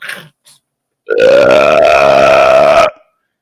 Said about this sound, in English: So we're going to do a belching disco.